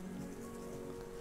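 Steady rain falls in the video game Garden Paws, a soft continuous patter with a low tonal hum of game music underneath and no talk.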